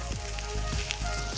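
Sausage and mushrooms sizzle and fry in a pan, giving a steady close crackle with a few soft stirring scrapes.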